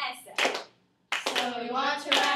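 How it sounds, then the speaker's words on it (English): A class claps along with a teacher during an English lesson, a few sharp hand claps around close talking, with a brief silent gap between the bursts. "You're going to clap with me?"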